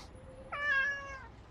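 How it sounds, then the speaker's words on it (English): A cat gives a single clear meow, fairly close, with quiet game-like ambience around it and no talking. "meowing in the background?"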